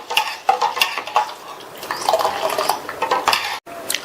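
A spoon swirls spiced buttermilk in a vessel, with wet sloshing and repeated clinks and scrapes of metal against the container, close and fairly loud, ending abruptly.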